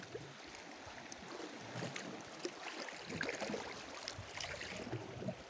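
Sea waves wash against the beach at Ngidal, a steady broadband surf rush with gentle surges and no voices.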